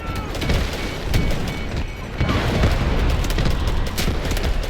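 Explosions and heavy crashes in the shooter Delta Force, booming blasts and smashing impacts mixed with gunfire, loud and chaotic throughout the short burst.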